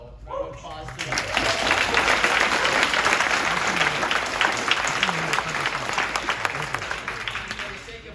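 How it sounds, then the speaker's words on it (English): An audience at a Purdue RoboMasters robotics club fall callout claps in a sustained, dense burst of applause lasting several seconds, following a short spoken introduction. "round of applause to them"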